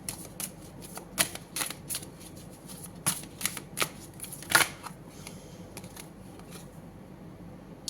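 Tarot cards are shuffled by hand in a quiet room, a series of crisp riffling bursts and light card slaps in an uneven rhythm, close and fairly soft.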